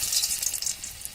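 Battered banana fritters hiss in a hot wok of oil, a steady, bright sizzle that stays fairly soft and even throughout, with no one speaking.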